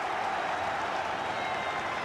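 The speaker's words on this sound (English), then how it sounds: "As this Goodison Park crowd" Football crowd at Goodison Park applauding and cheering Everton in a 1981/82 match, a steady, dense wash of clapping and roar filling the whole stretch without a break.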